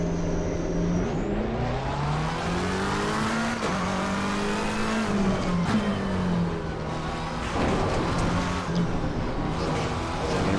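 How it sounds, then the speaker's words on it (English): McLaren 720S GT3 race car engine in the racing game Assetto Corsa Competizione, revving up and down continuously through gear changes at close range, with small pops and rattles and no talking. "You get those little pops and creaks and rattles from the metal"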